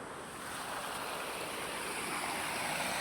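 Floodwater rushing after two hours of heavy rain, a steady broadband roar of flowing water that holds loud and unbroken throughout, with no voices.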